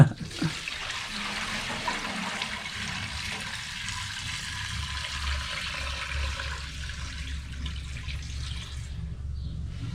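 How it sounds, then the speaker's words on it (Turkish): Milk being strained into a copper cauldron while making brined village cheese, a steady pouring, splashing water flow filling the scene continuously, fairly close and alone. "Sütümüzü süzdük."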